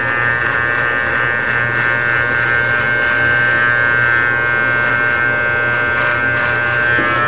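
Steady electric shaver buzz worked up and down over beard hair, a continuous close, loud hum with a constant tone and no talk.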